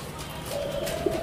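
A Kelantan derkuku dove gives a soft, steady coo over a faint, noisy background, the call rising in the middle of the short stretch and holding briefly.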